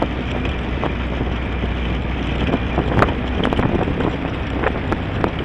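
A 1948 Jeep 2A with a barely synchronized three-speed manual, driving in second gear: a steady, loud engine and road roar with wind buffeting and small rattles throughout.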